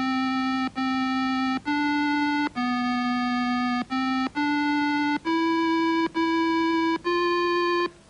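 A 1983 computer tune made with the Logo Music System plays as a string of pure electronic beeping tones at shifting pitches, about a dozen steady notes with short gaps, clean and alone.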